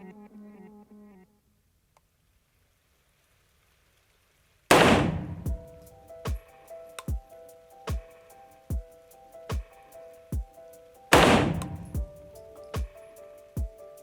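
Two sharp, loud gunshots ring out at about 20 yards of target shooting with a ZF5, each followed by a string of evenly spaced metallic pings and clangs that fade in rhythm. There is a quiet lull before the first shot.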